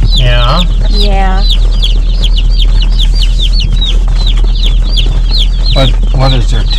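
Chicks peep in rapid, high chirps alongside deeper clucking from laying hens on a farm, loud and close with a constant low hum beneath, and people talk briefly over the birds.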